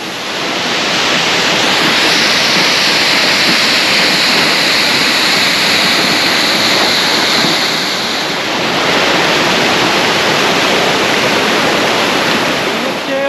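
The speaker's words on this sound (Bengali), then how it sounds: "ওয়াকাবা ফলসের সোর্স দেখুন এখান থেকে জলটা গিয়ে নিচে পড়ছে অনেকটা নিচেই পড়ছে" Loud, continuous rushing roar of Wakaba Falls in Cherrapunji, Meghalaya, water plunging a long way down, heard from close by with no pauses and no one talking.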